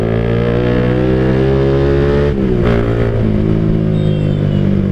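Motorcycles passing on a busy Jakarta street, a loud, steady engine drone that briefly dips and shifts in pitch midway before carrying on close by.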